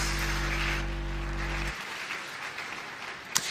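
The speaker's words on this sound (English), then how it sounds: "Give me a round of applause if you believe this is so" An audience at an International Women's Day event applauds with sustained, fairly even clapping after a low hum stops, and one sharp knock comes near the end.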